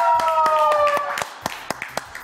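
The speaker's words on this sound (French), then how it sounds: "Applaudissements!" A short burst of studio audience hand clapping on a French TV show, a few sharp claps under a tonal hum and chatter, thinning out into scattered individual claps.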